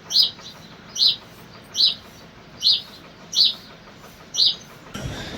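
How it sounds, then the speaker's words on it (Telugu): A single bird repeats a short, bright chirp about once a second at 6 a.m. before sunrise, clear and fairly close, over quiet background, ending in a burst of rustling. "బర్డ్స్ సౌండ్ వినిపిస్తుంది కదా"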